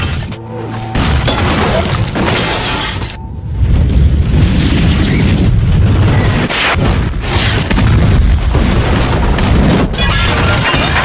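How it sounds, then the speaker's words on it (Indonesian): Molotov bombs are thrown at infected people chasing a man and burst in loud booms with shattering glass, followed by a sustained roar of flames and crashing noise. "2 orang melempar bom molotov kepada para rabies yang mengejar James"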